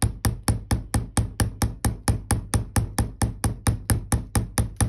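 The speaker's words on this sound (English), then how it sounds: "now I'm going to use my rubber hammer" A rubber hammer taps steadily on a block while shaping a beaded bracelet connector, about twenty evenly spaced, crisp close knocks in quick rhythm with no talk.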